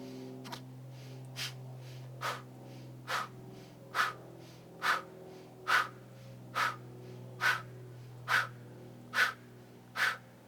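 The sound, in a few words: qi gong fanning the fire breathing exercise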